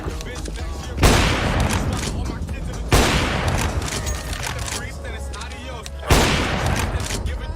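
Grenade blasts in Counter-Strike: Global Offensive, three loud, sharp explosions spaced a few seconds apart, each followed by a long, dense rumbling decay of game battle noise.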